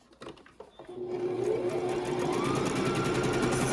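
Sewing machine stitching a quarter-inch seam through quilt pieces, starting with a few quiet clicks and then running steadily with a close, continuous whirring hum to the end.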